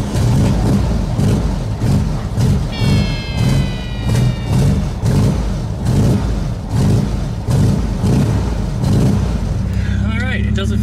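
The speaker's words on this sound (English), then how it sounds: "I'll just go down the street, you know, about 20 miles an hour and just pull it up and make sure it leaves two skid marks" A VW car rolls down a street at about 20 miles an hour, with a steady engine and road drone running throughout and a brief squeal partway through. A voice speaks over it.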